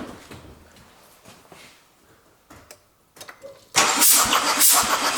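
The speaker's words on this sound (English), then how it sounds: "next I start my engine, that we can see that how air goes out" A Mercedes OM651 diesel engine with a glow plug removed for a compression test cranks with faint ticking, then catches and runs loudly with a rough hissing roar.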